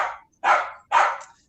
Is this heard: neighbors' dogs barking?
yes